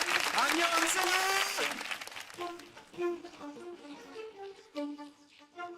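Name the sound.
audience applause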